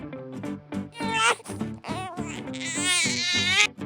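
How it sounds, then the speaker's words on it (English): A baby cries in loud, wavering wails that rise and fall over about four seconds, with sobbing breaks between bursts, sounding close and continuous. "The baby is crying."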